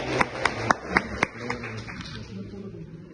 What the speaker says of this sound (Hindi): मैं चाहती हूँ जोरदार तालियों से हम उनका यहाँ स्वागत करें।